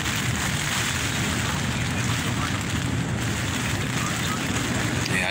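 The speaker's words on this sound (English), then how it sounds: "You can see the wind just pushing against the backside of this tent here from the west." Strong thunderstorm wind pummels an ALPS tent, a steady loud roar of gusts and flapping fabric buffeting the walls without letup.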